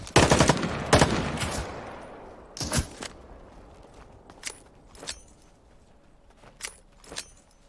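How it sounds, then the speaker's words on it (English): Gunfire in the battle royale video game Super People comes as rapid bursts of sharp cracks early on, then a louder double shot near three seconds and several isolated shots that fade further off. "I took some shots at him."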